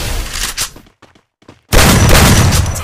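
Loud gunshots in Garena Free Fire blast close and heavy at the start, drop to near silence with a few faint clicks, then a sustained roaring volley of fire takes over.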